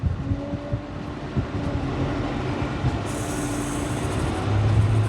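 A tractor running in A3 low gear with its PTO engaged while raking and baling bahiagrass in southern Mississippi, producing a steady, close mechanical drone with low rumbling and a faint whine, no talk.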